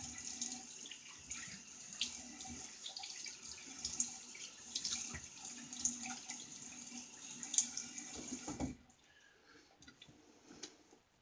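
Tap water runs steadily over an Ever Ready Streamline safety razor for a quick rinse, then cuts off near the end, leaving faint room tone and a stray click.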